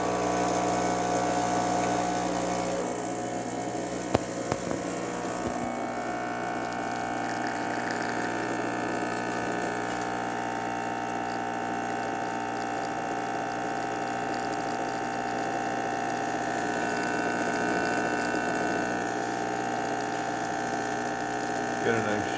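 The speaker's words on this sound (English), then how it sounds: "let's go ahead and pour a shot." A Rancilio Silvia espresso machine with a PID controller runs its pump to pull an espresso shot, giving a steady, loud droning hum with a brief clatter early on, continuous and without voices.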